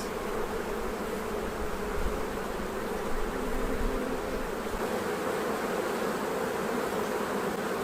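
Honey bees buzz continuously around an open hive during a spring inspection, a dense, steady drone close by with no voices.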